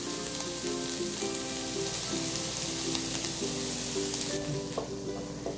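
Chopped onions sautéing in a tablespoon of butter in a pan, a steady close sizzle and frying crackle running throughout with occasional stirring and faint background hum.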